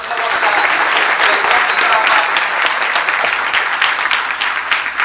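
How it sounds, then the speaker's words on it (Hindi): A room full of people claps steadily to welcome newly selected candidates of the CGPSC 2024 state civil service exam at a congratulatory gathering; dense, even applause fills the full five seconds without letting up. "एक पहले तो एकदम तालियों से स्वागत करो भाई"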